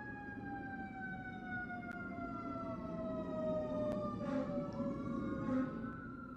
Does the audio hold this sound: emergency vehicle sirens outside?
yes